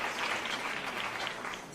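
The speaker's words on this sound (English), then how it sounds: "Please give them a round of applause." A crowd at an NAACP Freedom Fund banquet claps steadily throughout, dense applause at moderate distance with no voices standing out.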